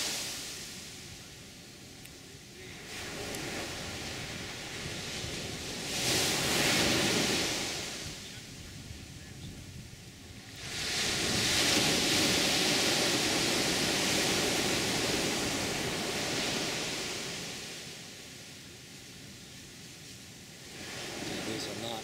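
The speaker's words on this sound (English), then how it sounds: "Now, these are not nearly as big as the waves in Hawaii." Ocean waves and surf at Playa Potrero beach in Costa Rica, a broad continuous wash that swells and recedes in several long surges, with a voice talking faintly over it.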